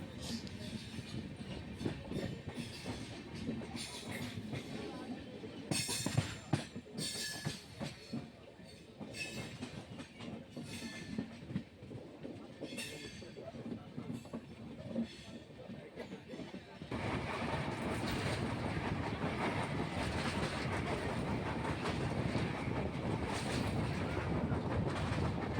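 Kagaznagar superfast express running on after pulling out of Aler, a steady rumble with rhythmic wheel clatter heard from inside the coach, growing louder and denser in the second half.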